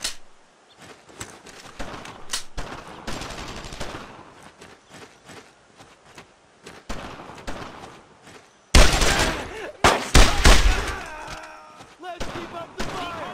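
Dense gunfire from a World War II squad battle in Brothers in Arms: Road to Hill 30, with rapid rifle and machine-gun bursts throughout and a louder, harsher barrage late on. Voices shout over the firing.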